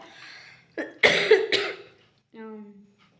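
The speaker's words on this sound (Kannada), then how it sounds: "ನನಗೆ ಕೆಮ್ಮು ಜಾಸ್ತಿ ಆಗಿದೆ" A woman with a bad cough coughs indoors: a short burst of two or three harsh, close coughs, then a brief voiced throat sound.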